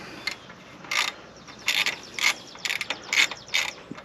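A ratchet loosens the short bolt holding the spark arrester on a Yamaha XT250 motorcycle exhaust. Its dry clicking comes in about eight quick, close bursts, with quiet gaps between strokes and no talking.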